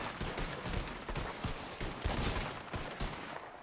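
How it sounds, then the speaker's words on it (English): Sustained video-game gunfire laid down as suppressing fire, a dense run of overlapping shots and bursts at steady volume with no pauses. "Lay down, suppressing fire."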